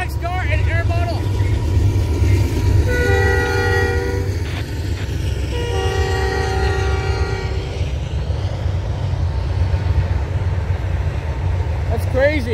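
A Norfolk Southern freight train of boxcars and intermodal cars passes close by, with a loud continuous rumble of wheels and cars and two long horn blasts partway through. People speak faintly underneath.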